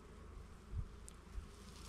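Honey bees hum in a backyard hive, a low, faint, continuous buzz with a couple of slightly louder swells as individual bees pass close.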